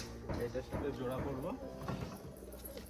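A crested pigeon gives soft, throaty rolling coos close by, partly overlapping someone talking nearby.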